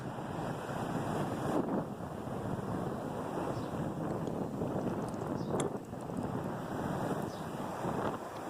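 Sea waves wash steadily onto the Karachi seashore under gusting wind that buffets the microphone, a constant broad rushing roar with no voices.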